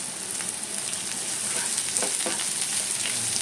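Chopped onion sautéing in a pan ahead of spicy dry mutton liver, with a continuous bright sizzle and soft stirring scrapes that build slightly louder toward the end.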